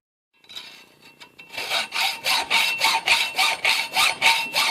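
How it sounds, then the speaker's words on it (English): A hacksaw blade cuts metal in a workshop, a few tentative strokes followed by a steady run of loud, close back-and-forth rasping strokes. "Look how good a good hacksaw blade cuts."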